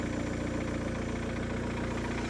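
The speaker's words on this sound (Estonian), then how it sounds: "meil on lisaks mootori häälele ka kompressori hääl taga" A car engine idles steadily with an air suspension compressor running alongside, a continuous even hum with low throbbing harmonics and no talking throughout.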